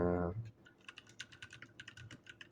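Keys clacking on a compact 60% mechanical keyboard, a brisk run of separate close presses after a short voiced sound at the start.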